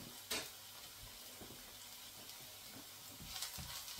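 Onion frying in a pan, a steady low sizzle with a few soft stirring knocks and scrapes, close and moderately loud, no voices.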